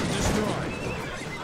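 A horse neighs loudly in the Cossacks 2 strategy game, a single whinny heard up close over a dense bed of battle noise and murmured voices.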